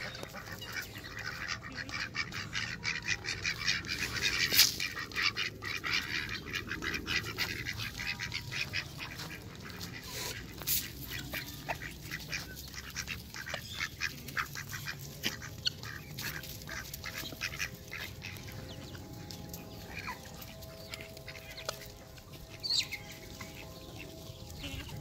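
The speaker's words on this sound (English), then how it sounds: "Here come the ducks." Ducks quack and honk continuously at close range, a busy overlapping chorus of repeated calls with no voices.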